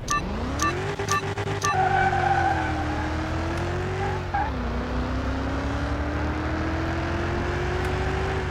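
In the Car Mechanic 2021 video game, a Chevrolet Corvette drag racing car holds a loud, sustained engine drone that climbs, wavers and settles into a steady high rev, with a brief squeal and no talking.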